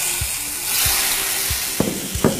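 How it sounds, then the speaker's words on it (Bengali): Lobster pieces mixed with salt go into hot oil, giving a steady sizzle with a few low thumps and sharper bursts near the end, close and fairly loud with no talk. "আমরা লবণটা খুব ভালো করে মিশিয়ে নিয়ে এখন গরম তেলে ছেড়ে দিব"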